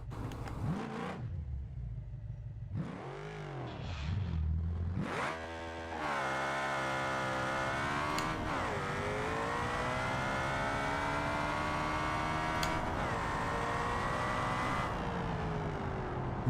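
An ETK 4.4 V8 car in BeamNG.drive revs in a few short bursts, then accelerates hard in a long sustained climb, its engine note rising steadily, loud and close with no talk.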